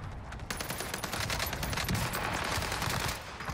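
Rapid, dense bursts of gunfire from the shooter game Warzone on Rebirth Island, with a Kar98 rifle in play, crackling continuously at moderate volume for most of the stretch before tapering at the end.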